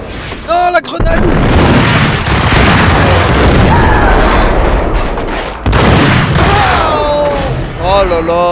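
Heavy booming blasts and continuous explosive rumble from grenade explosions in the video game Max Payne fill the scene loudly. Voices and music-like tones appear at the start and end.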